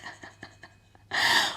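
A person imitates snoring with a breathy snort and rasping inhale, loud and close, after a few soft rhythmic puffs.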